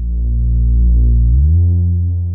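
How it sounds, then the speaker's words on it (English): Deep, sustained synthesized bass in a progressive style, layered with a pure sine-wave copy beneath it. The tone swells and shifts pitch partway through, then settles into a fuller, steadier low drone, loud and with no voices. "So there's the sine wave copy underneath"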